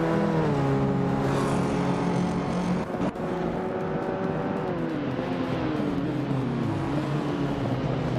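Race cars, among them a 1980 Volkswagen Golf GTI, roar loudly and steadily with layered engine tones rising and shifting as they accelerate, with one brief dip in the middle.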